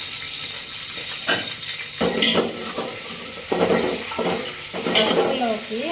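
Urad dal and dried red chillies sizzle in hot oil with a steady, bright crackle, broken by several stirring scrapes and clinks of a spoon against the pan, close and clear.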